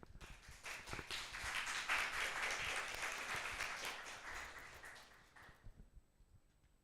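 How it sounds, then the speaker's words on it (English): An audience at a high school biology oral presentation session bursts into applause for a certificate presentation, a dense, fairly distant wash of clapping that swells and then tapers off into near silence. "Please clap your hand."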